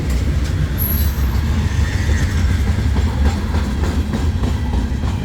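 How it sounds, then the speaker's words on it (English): A CSX train of empty grain hopper cars rolling past close by, a loud, steady rumble with rail clatter and a brief high wheel squeal near the start. "here comes the end of this grain train, or empty grain hopper train."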